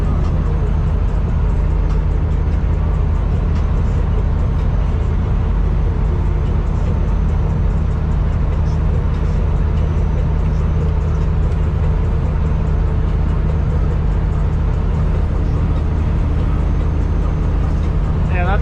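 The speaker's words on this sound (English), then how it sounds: "And a loud ass truck." A loud truck passing on a highway at night, heard from inside a supercharged E90 M3, as a steady, heavy low rumble of road and engine noise that holds through the whole stretch.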